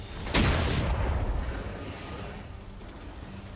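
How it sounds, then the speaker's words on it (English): A turret in League of Legends is destroyed with one sudden loud booming crash. Its rumble then decays slowly over about three seconds. "Blue team's turret has been destroyed."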